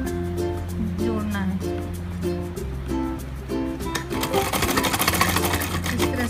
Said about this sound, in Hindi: कॉर्नर का हिस्सा है इसलिए इसको फिर से दोबारा सिलाई लगाएंगे